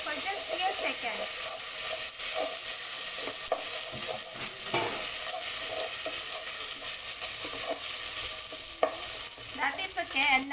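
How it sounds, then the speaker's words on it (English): Ingredients sauté and sizzle in a pan for Goan sorpotel, with steady frying hiss and scraping stirring strokes close up, continuing throughout with no talk. "And just saute for just few seconds."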